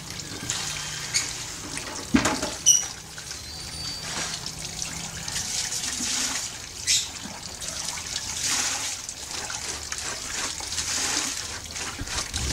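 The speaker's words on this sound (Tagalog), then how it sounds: "Malakas naman ang tubig dito." Water runs steadily and strongly from a tap, a continuous splashing trickle with a couple of brief clanks partway through.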